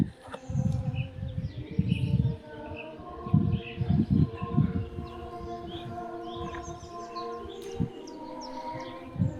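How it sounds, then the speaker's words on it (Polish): Birds chirping and calling outdoors in a quiet churchyard setting in Poland, with repeated short tweets and calls at moderate distance over faint background noise, plus a few low thumps. "ćwierczają ptaki"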